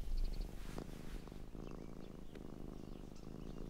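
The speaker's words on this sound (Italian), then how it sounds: "Sta facendo le fusa." A cartoon cat purrs steadily and close up, a soft continuous rumbling that runs alone through the whole stretch with no talking.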